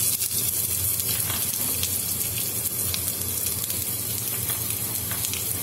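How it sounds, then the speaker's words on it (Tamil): Cumin seeds and onion tempering in hot oil for adai dosa batter give a steady, close sizzle with a watery hiss that runs throughout, with no talking. "அதுக்காக தான் தாளிச்சுட்டு இருக்கிறோம்"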